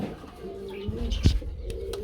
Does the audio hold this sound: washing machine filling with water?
no